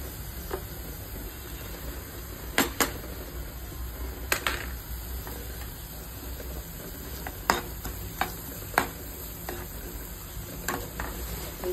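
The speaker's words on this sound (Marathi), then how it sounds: "आपला कांदा चांगला शिजलेला आहे. आता त्यात मी आलं लसूण पेस्ट टाकते" Ginger garlic paste fries with cooked onions in a pan, a soft sizzle under scattered clinks and scrapes of a spoon stirring, close by, with no one talking.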